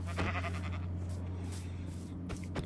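Sheep bleating in the video game Minecraft, a few short bleats over a steady low hum, with no one talking.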